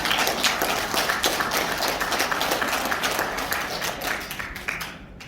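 An audience at a lecture breaks into applause, a dense burst of clapping from many hands that rings out and slowly thins and fades away over about five seconds.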